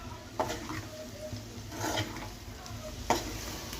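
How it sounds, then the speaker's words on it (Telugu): Raw banana fry with coriander being stirred in a pan, quiet scraping strokes with a soft sizzle underneath and a few sharper clinks of the spoon against the pan, close and unhurried. "కొంచెం కొత్తిమీర ఒకసారి కలిపేద్దాం"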